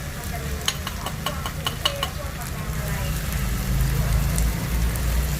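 Rice noodles and egg for pad thai are stir-fried in a pan, with a few sharp spatula scrapes and clacks at first, then a rising, steady sizzle close up.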